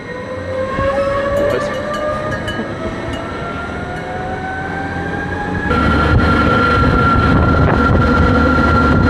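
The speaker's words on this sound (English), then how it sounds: "This train's gonna keep going all the way up to Jungfrau" Mountain railway train climbing toward the Jungfrau in the Swiss Alps near the Eiger, a steady rumble of wheels and motors with rising whining tones, growing louder partway through as the run continues.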